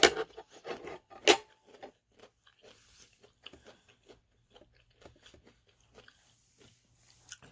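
Close, crisp bites and crunching come first, then fade to softer, scattered chewing, as someone eats a Sunday dinner of oven-warmed pork chops and crunchy apples.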